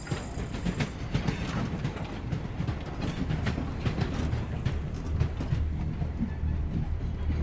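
In the video game Voidtrain, a train rolls along with a dense, steady rumble and faint rhythmic clacking, continuous and fairly loud throughout.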